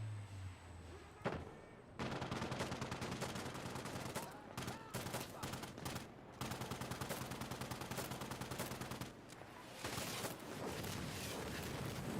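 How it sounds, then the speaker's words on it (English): Sustained rocket barrage and rapid gunfire in the shooter game Insurgency Sandstorm, a dense roar of automatic fire and blasts that runs almost without pause, with brief gaps, no talk over it. "Rocket barrage in there to finish the job off."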